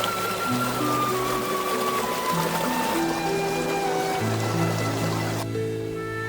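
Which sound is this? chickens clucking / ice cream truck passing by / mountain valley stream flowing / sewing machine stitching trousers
mountain valley stream flowing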